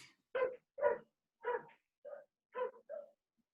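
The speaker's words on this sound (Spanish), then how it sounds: "Siempre que hablo de este tema ladran los perros." Dogs bark in a steady series of about six barks, evenly spaced and moderately faint, as if from a distance outside, with no talking.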